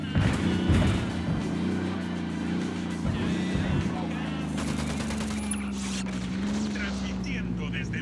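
Gunfire in the video game Ghost Recon Wildlands, bursts of automatic shots mixed with a running vehicle engine, with voices talking over the action.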